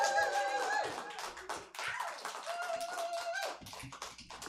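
Applause from a comedy club audience cheering a drag comedian, bursts of clapping mixed with laughter and chatter, fairly close and lively, with a performer's voice talking over parts of it.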